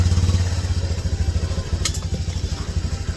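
A motorcycle engine runs close by with a steady low throbbing pulse and some light mechanical clatter, without speech.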